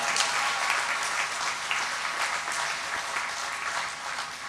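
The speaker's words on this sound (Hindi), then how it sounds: "एक बार सांस्कृतिक मंच की पूरी टीम के लिए मैं आपकी तालियां सुनना चाहता हूं" Sustained applause from an audience at a comedy poetry gathering in a cultural hall in Bhiwani, steady and full throughout with no voices over it.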